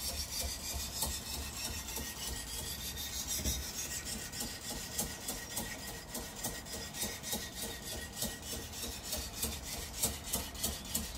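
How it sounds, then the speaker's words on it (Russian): A ceramic knife being ground and sharpened on an abrasive at roughly a 41-degree inclusive angle, giving a steady close raspy scraping with rhythmic strokes that grow more pulsed toward the end. "шлифовка идет, слышно, как снимает керамику"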